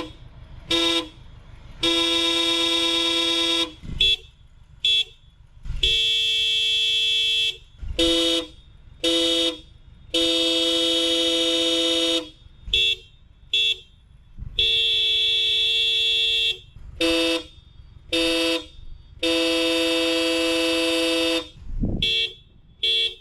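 Hella horns on a 2002-2007 Subaru Impreza honking in a series of short and longer blasts, loud and close, with brief silent gaps between each toot.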